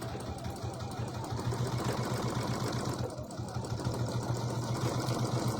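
Sewing machine stitching quilted fabric, a steady rapid motor hum and needle chatter that pauses briefly midway and then resumes, close and fairly quiet.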